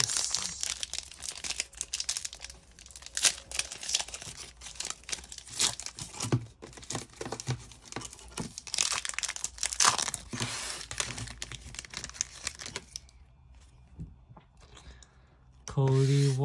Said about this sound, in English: So yeah, let's open this.